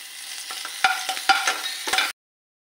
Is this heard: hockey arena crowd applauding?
no